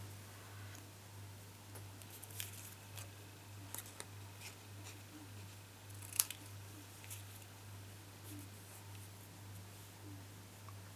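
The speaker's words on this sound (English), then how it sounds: "any that you're not happy with, just snip them off" Scissors snip paper off-cuts during a papercraft session, giving a few faint, scattered sharp clicks at irregular intervals over a steady low hum, with no one talking.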